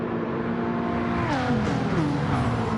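Race cars at speed on track with a BMW in the lead, close engines droning and shifting pitch as they rev, a steady loud roar with no voices.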